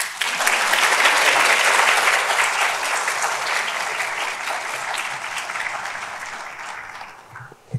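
Audience at a public service law conference applauding to welcome a keynote speaker, a full steady round of clapping that swells early, then gradually thins out over several seconds.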